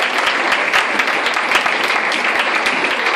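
A large audience applauds at a charity concert of northwestern voices, AMAGRO 2018, a steady dense wash of clapping filling the whole stretch alone.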